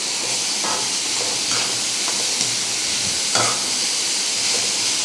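Vegetables for a beef momo filling sauté in a pan with a steady, close hiss and sizzle, broken by a few soft scraping stirs.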